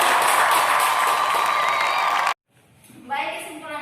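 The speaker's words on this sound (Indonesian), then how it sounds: "Kita berikan aplaus." Audience applause at a school biology teaching session, dense and loud clapping that cuts off abruptly, then a quieter stretch where a voice speaks.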